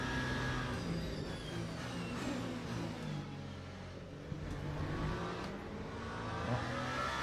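A hypercar engine in Le Mans Ultimate sim racing howls continuously at high revs, pitch dipping and climbing through gear changes and corners, loud and steady without voices.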